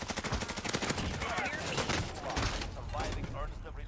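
Rapid automatic gunfire from a Call of Duty match rattles in dense, continuous bursts across the whole stretch, loud and close, with a player's voice talking over the shooting.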